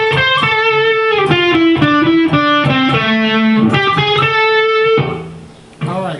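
An overdriven electric guitar runs a lead lick up at the 15th position, with bends and picked notes ringing loudly and close, then fading near the end with a brief extra strum.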